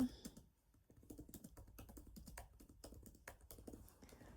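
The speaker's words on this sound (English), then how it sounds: "just typing something at the moment" Quiet, close typing on a computer keyboard, with irregular bursts of key taps and short pauses between them.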